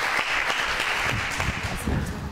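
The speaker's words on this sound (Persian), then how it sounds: "تشویقشون کن" Audience applause on a pantomime game show, a steady burst of dense clapping throughout, close and fairly loud with no speech over it.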